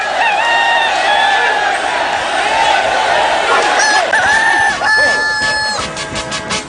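Rooster crowing amid a noisy crowd at a night-time scene, several sustained wavering calls overlapping loud background voices and chatter throughout, with a brief clearer crow near the end.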